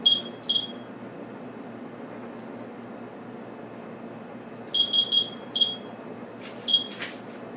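A kitchen timer sounds short high electronic beeps in small clusters while being set for a crock pot of milk, spaced irregularly over a quiet room hum, with no talk.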